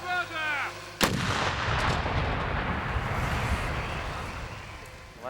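A single heavy six-tonne artillery cannon blast booms out after a brief voice, followed by a long rolling rumble that slowly fades.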